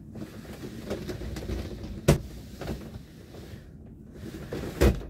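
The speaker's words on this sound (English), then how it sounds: "Nice smooth action on the door." A tambour door slides on its track in the washroom of an Adria Twin Supreme 640 SGX campervan, giving a soft rolling rush with two sharp knocks as it meets its stops, close by in a quiet room.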